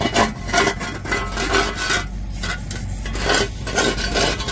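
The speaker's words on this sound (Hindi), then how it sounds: "इसमें वायर ब्रश से रगड़ते चलो कुछ इस हिसाब से करना पड़ता है, देख रहे ना" A wire brush scrubs a road surface being cleaned before bitumen work, making a loud, coarse rasping scrape in repeated back-and-forth strokes with no talking.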